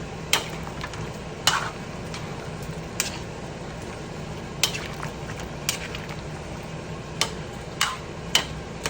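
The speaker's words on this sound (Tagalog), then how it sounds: "Yan, haluin natin." A spoon stirs a pot of thick, sticky stew with cow's trotters or skin and sizzling broth, giving a steady scraping, bubbling texture punctuated by sharp clicks and knocks against the pot, close and alone.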